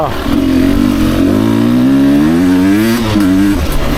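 A 2024 Beta 300RR Racing Edition two-stroke dirt bike engine revs up loud and close, its pitch rising steadily before it dips briefly and climbs again.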